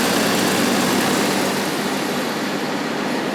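A Rolls-Royce Silver Shadow engine held at raised RPM produces a loud, steady, broadband roar with no pauses, close and continuous throughout.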